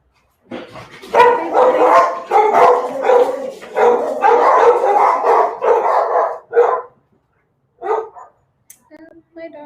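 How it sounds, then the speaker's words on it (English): A pet dog barks loudly and repeatedly in a rapid run of close, harsh barks, ending with a few softer yips and whimpers, with no talking. "My dog is really loud sometimes."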